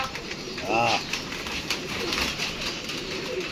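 Pigeons coo in a brief low burst near the start, then softer calls follow against a steady noisy background, with a voice heard faintly.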